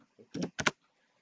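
Typing on a computer keyboard while using eBay Desktop, a few quick clustered keystrokes, close and fairly soft, followed by quiet.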